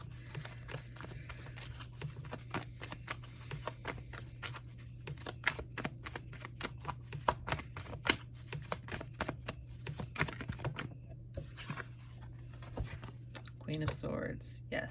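Tarot cards shuffled and drawn from a deck, giving soft rapid papery flicks and taps close by, then a brief louder rustle near the end.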